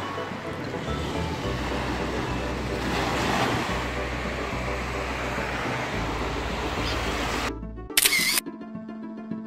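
Steady surf washing on Praia das Flechas, a bay beach in Niterói on Guanabara Bay, a continuous wash of breaking waves with wind rumble on the microphone and a brief sharp clatter near the end.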